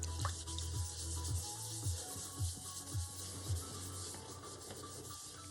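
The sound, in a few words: sanding with 800 grit sandpaper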